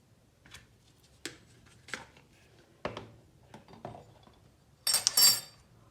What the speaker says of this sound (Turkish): homojen bir kıvam alana kadar karıştırıyoruz arkadaşlar